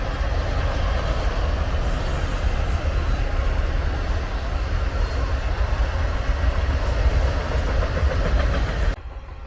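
A long freight train with car carriers and intermodal cars rolls steadily past nearby, its loud continuous rumble and wheel noise holding for about nine seconds before cutting off abruptly.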